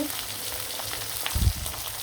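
Hilsa fish slices fry in hot oil with a continuous bright sizzle, and a few dull low knocks from the pan or utensil come near the end.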